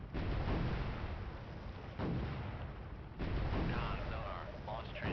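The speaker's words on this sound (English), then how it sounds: "he's firing counter missiles" Deep booming launches from the submarine warfare game Cold Waters arrive as three heavy bursts a second or so apart, each followed by a roaring rumble, with a voice talking over them.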